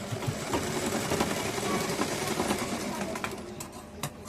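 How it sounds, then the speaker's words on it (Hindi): A sewing machine stitches folded blouse fabric, its fast, even whirring running close and steady, with a faint voice in the background. "थोड़ा थोड़ा ये फोल्ड कर करके सिलना है, ये अंदर का कपड़ा बाहर नहीं दिखना चाहिए।"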